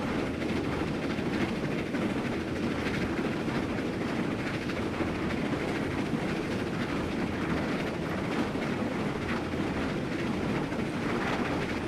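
Steam train in Train Simulator 2015 running steadily, a continuous rumbling roll of wheels and rail noise with faint clickety-clack, moderately loud and unbroken throughout.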